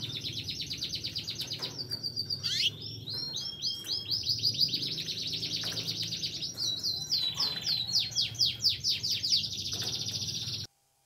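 A canary sings continuously nearby, rapid trilling chirps and whistled runs with brief pauses, loud and clear with no talking.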